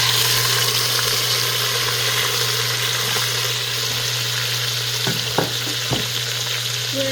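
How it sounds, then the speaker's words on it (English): Tomatoes and onions for beef birria tacos sizzling in a hot pot, a loud steady frying hiss close by with a low hum beneath and a few clanks of a utensil near the end. "I'm going to go ahead and add our tomatoes and onions."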